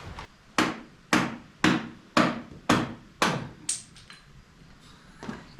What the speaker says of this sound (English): That was part of the hammer splitting.